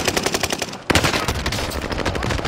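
Rapid machine gun bursts rattle steadily through a first-person shooter battle, with a brief dip near the start before dense automatic fire resumes loud and continuous from close range.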